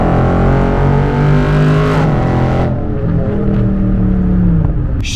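A wide-body Dodge Charger Scat Pack, weighing 4,400 pounds, accelerates hard through corners, its loud engine revving and rising in pitch, then dropping and climbing again as it shifts, close and alone without talk.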